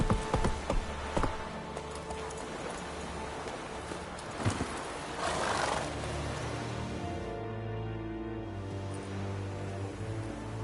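Roach the horse in The Witcher 3 trots along with steady clip-clop hoofbeats, close and moderately loud, over a soft rustling outdoor ambience; no one speaks.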